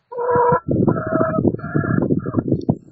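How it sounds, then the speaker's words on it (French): A small hen, mostly feathers and little body, clucks in a run of close, loud, throaty calls with short breaks between phrases. "La poule."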